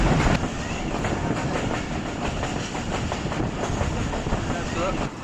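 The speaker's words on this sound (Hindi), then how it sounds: "हल एक्सप्रेस इस वक्त अप्रोच कर रही है दाऊद खेल जंक्शन रेलवे स्टेशन पर" The Thal Express passenger train rolls steadily into Daud Khel Junction railway station, a continuous loud rumble with rhythmic clickety-clack of wheels over rail joints throughout.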